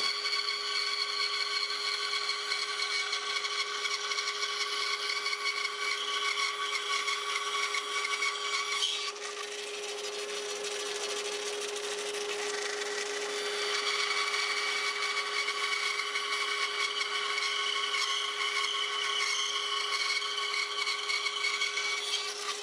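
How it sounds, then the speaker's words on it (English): A bandsaw cuts the cheeks on pine tenons for a country-style wardrobe, a steady close whine with strong tonal hum running throughout, easing slightly in the middle of the cut before returning to full pitch, with no talking. "The bandsaw makes quick work of cutting the cheeks on the tenons."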